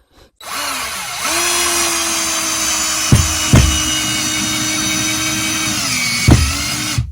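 A Parkside PABS 20-Li E6 20V cordless drill, set to drilling mode at minimum speed, drives a screw into wood. It gives a loud, steady motor whine broken by three sharp knocks as the screw bites and sinks.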